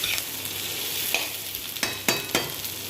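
Egg, potato and onion fry in a pan with a steady close sizzle, and a spatula stirs them through, giving several sharp scraping knocks in the second half.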